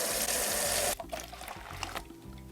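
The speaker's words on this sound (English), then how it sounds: "Specifically, we are going to add 2 cups of water." Two cups of water poured into fresh grapefruit citrus juice, a loud steady splashing stream for about a second, then softer trickling and dribbling drops.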